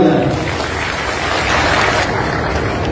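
A crowd gives loud, sustained applause for two honoured people at a public gathering, a dense, steady wash of clapping with no speech over it.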